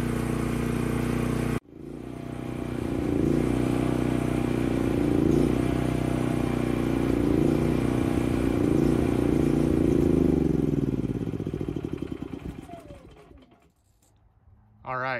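A small engine idles steadily after a brief start, running on until the carburetor fuel is used up, then sputters, dies and goes quiet near the end.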